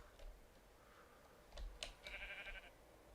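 Sheep in the Minecraft video game gives one faint, short bleat partway through, thin and distant over a low, quiet background hum, with no talking.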